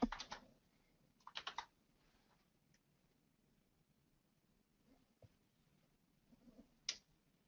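Typing on a computer keyboard in a quiet room, short bursts of rapid key clicks separated by pauses and a few isolated taps, close and soft.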